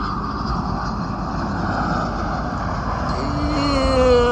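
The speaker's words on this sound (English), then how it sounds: "we are just watching the planes fly by" At an airport FBO, an airplane flies by with a steady, broad roar that swells slightly, and a rising engine tone emerges near the end.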